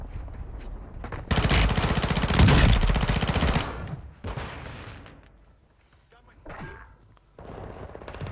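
Automatic gunfire in Call of Duty Warzone 2.0, a loud sustained burst of rapid shots followed by scattered shorter bursts, with a player's voice talking between them.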